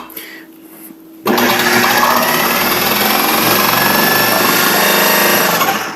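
A food processor slices potatoes for scalloped potatoes and ham. It starts abruptly after a quiet second and holds a loud, steady motor whir with a rough blade chatter to the end.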